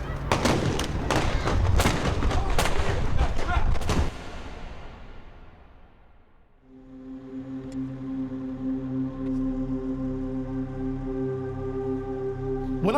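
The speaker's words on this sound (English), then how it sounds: "all of a sudden you hear shots being fired" Gunfire in a shootout between a suspect and police officers, a rapid volley of loud cracking shots for several seconds, then fading into a sustained tonal hum.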